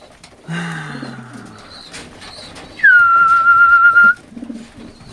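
Old Polish pigeons coo in a loft, with a low falling coo near the start, then a brief chirp and a steady whistle-like tone for about a second, with soft rustling in between and no talk.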